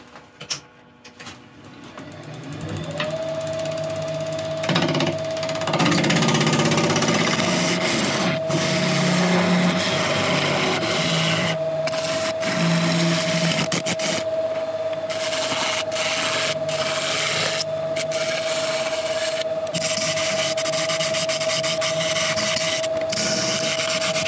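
A woodturning lathe shapes a piece of yew with a steady motor hum and a sustained tone while the tool rubs and scrapes along the spinning wood in repeated passes, close and fairly loud.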